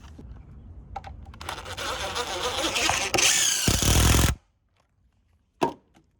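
A power drill drives toenail screws into stair framing: one sustained, loud whirring burst of about three seconds that builds and then cuts off sharply, followed by quiet and a single short knock.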